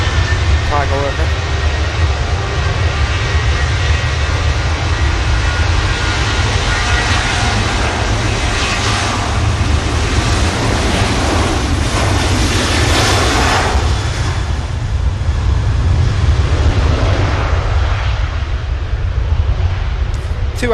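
Loud, steady roar of jet engines and airport wind across a ramp at Manchester Airport while an airliner is towed backward by a tug behind an ASL cargo aircraft, a continuous wash with no breaks.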